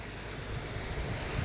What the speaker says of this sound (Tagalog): So yan yung lawak ng karagatan sa Cadiz City, Negros Occidental.